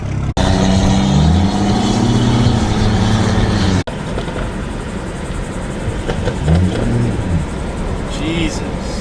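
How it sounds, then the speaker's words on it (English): A tuned BMW 535i engine revs up and settles in rising and falling pitch sweeps, close and loud, with voices talking over the engine noise. "finally my car's tuned. So let's hear it."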